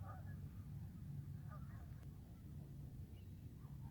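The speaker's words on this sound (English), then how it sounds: "You hear the birds." Geese honk in short, faint bursts over a low, steady background rumble at Alberta Beach at the close of day, a few scattered calls coming from some distance.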